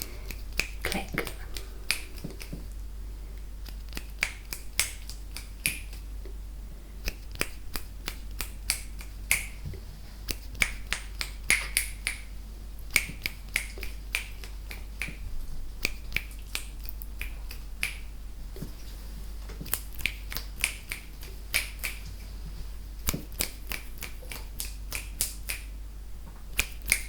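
Sharp, isolated finger snaps during a binaural cranial nerve examination, sounding close and crisp, fired in irregular bursts and single clicks over a quiet low hum, with no speech.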